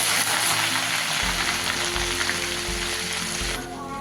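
Tomato puree, ground from four tomatoes, sizzles loudly in a hot pan while cooking egg dum biryani. The steady frying hiss is broken by a few stirring scrapes, and a voice is heard faintly at the end.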